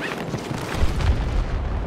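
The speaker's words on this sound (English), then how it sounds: "I just saw one of our own tanks drive off the cliff and explode" A tank exploding after driving off a cliff in Battlefield 2042, heard as a heavy rumbling boom with crackling debris amid dense battlefield noise, moderately loud and without talk.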